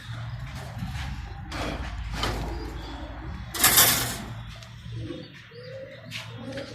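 Pigeons coo in a loft kept by a pigeon trader, with soft, low repeated coos and short chirps, a brief noisy burst around the middle, and small scattered sounds between the calls.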